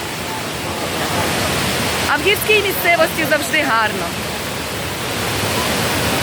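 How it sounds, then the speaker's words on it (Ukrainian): The Kravica waterfall in a mountainous part of Bosnia and Herzegovina pours down in a steady, dense roar of rushing water, close and constant, while a person speaks briefly over it midway. "Водоспад, вода згори і вниз."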